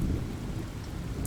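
Steady heavy rain pours with a low rolling rumble of thunder underneath, a dense continuous wash with no pauses and no voices.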